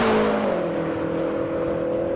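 A 2013 BMW M6 launching from a standstill, its engine roaring loudly and climbing steadily in pitch as the car pulls hard, close and continuous with no voices.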